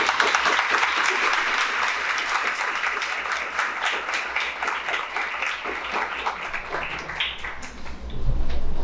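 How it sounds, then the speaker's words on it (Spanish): An audience gives sustained, energetic applause to welcome a professor, individual claps audible within the dense clapping before it thins near the end. "Vamos a recibirlo con un fuerte aplauso."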